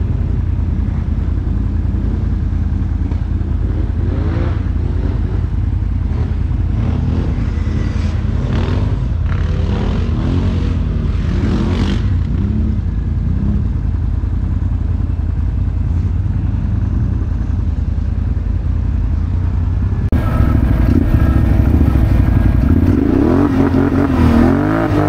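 CF Moto 625 and Can-Am 1000 and 650 ATVs riding on a Sunday outing, loud continuous engine drone with revving surges and clatter, a close burst of acceleration near the end.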